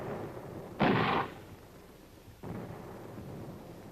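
Artillery fire in a 1961 military film: a distant muffled boom rumbles for about half a second over steady film hiss, followed by a softer second thud and a lingering low roar.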